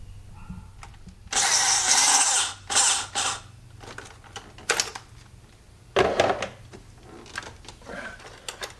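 On an e90 BMW 328i intake, a power tool driving a 6.5 mm socket spins off a hose clamp. It gives two short, loud whirring bursts up close, followed by scattered knocks and clanks of parts being handled.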